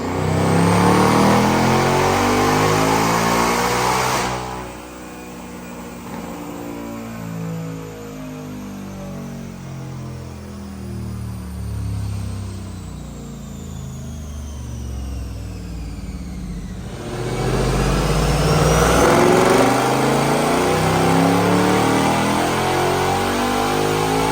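A 2024 Mustang with a Whipple Stage 1 supercharger on a dyno, loud revving pulls that climb in pitch, drop off, then rise again in a second hard sweep.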